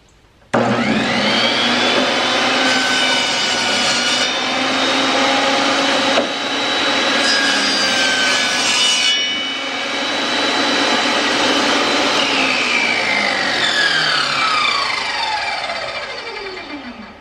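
A Delta table saw spins up and cuts through very soft, balsa-like wood, a loud steady whine with shifting tone during the cut, then the motor winds down as the blade coasts to a stop; no talking.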